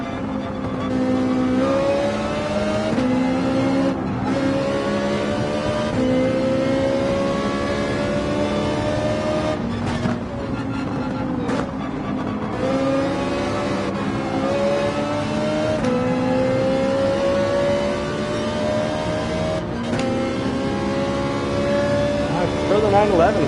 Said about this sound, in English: We can really rev out the 911.